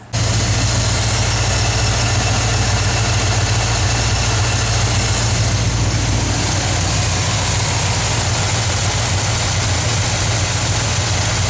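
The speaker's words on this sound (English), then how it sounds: "We're getting both these motors up to about 185 degrees where the thermostat opens up" Two car engines fitted with carburetor spacers idle together as they warm up, a loud, steady, close low rumble with constant vibration throughout and no talking.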